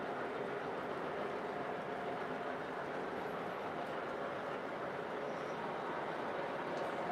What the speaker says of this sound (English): Get some of those trains going again.